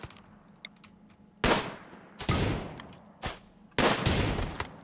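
Gunshots in the RimWorld colony game: four sharp, loud cracks with short decaying tails, spaced about a second apart over a faint background.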